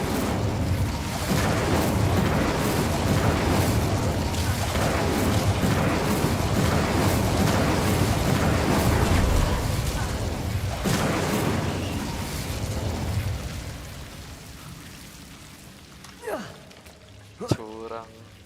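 Casting the Incendio fire spell in Hogwarts Legacy unleashes a long, dense roaring blast of flame and combat noise that fades out, then a few brief sharp pops and a voice near the end.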